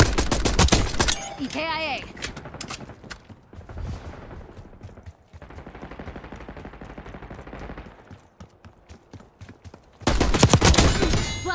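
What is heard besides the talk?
gunfire in video game Call of Duty Black Ops 6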